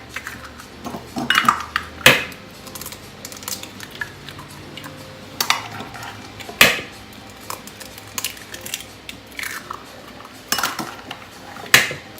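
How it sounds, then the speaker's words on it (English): Four eggs being beaten in a bowl for custard, heard as irregular clinks and taps of a utensil against the bowl, with a few sharper knocks and scrapes between quieter stretches, no talking. "To this bowl, I'm going to beat in 4 eggs."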